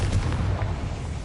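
A Confringo blasting spell explosion in Hogwarts Legacy, a single loud, dense low boom that fills the whole short clip with a rumbling burst and no talk.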